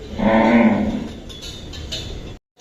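A cow at a cattle farm gives one loud, close moo that trails off, followed by some quieter shuffling.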